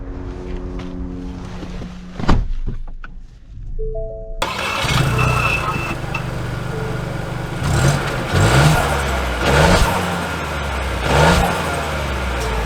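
A 2024 Ford Bronco Sport Black Diamond cranks with a sharp burst, then settles into a loud, close idle that swells with several short revs and a steady hum.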